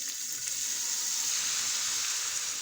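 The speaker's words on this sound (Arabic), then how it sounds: "في مقله درت كميه قليله تاع الزيت، خليته يسخن وندير عليه هذاك البصل" Onion frying in a little hot oil in a pan, for a covered pizza, gives an even, continuous sizzling hiss up close, with no talking.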